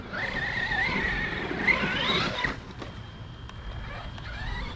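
An Arrma Big Rock 223S RC truck, its overheating and low-voltage cutoff fixed, drives past with a high, wavering electric motor whine that rises, then cuts off abruptly and leaves quieter outdoor noise with faint motor bursts.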